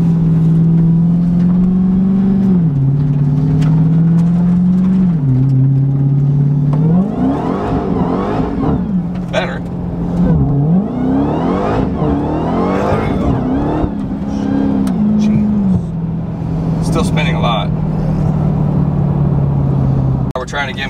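A Dodge Demon on a drag strip revs its engine repeatedly, the pitch rising and falling in surges of deep mechanical roar, with people talking intermittently over it.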